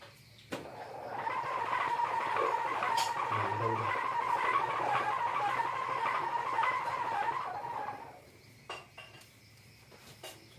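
A Bugis pitu pitu wind instrument, its reed still thick, blown in one sustained, buzzy, fairly loud tone for about seven seconds, then a few faint clicks and handling sounds.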